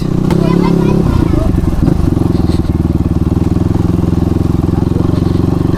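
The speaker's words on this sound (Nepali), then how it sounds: "यो बाइक त खतरा चिप्लिन्छ नि" A motorcycle rides on a slippery snow-covered road at Phulchowki during heavy snowfall, its engine droning loud and close throughout with a rough, pulsing note and a shift in pitch early on, while voices talk over it.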